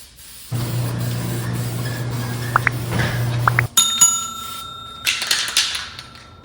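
A steady hiss of an aerosol spray can applying graphite coating to a lawn mower deck runs for a few seconds, then cuts off, followed by a few light metallic clicks and rattles.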